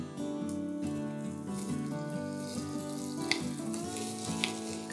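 Capsicum tossed into roasted garlic in a hot pan, frying with a steady, close sizzle over a dense harmonic background; a few soft clinks stand out briefly near the end.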